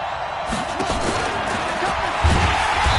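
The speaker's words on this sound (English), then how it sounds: "Here comes a big one as this crowd gets up making some noise." Stadium crowd noise in a PS4 football game, a steady broadband roar that swells louder near the end as fans rise on a big third-and-short play.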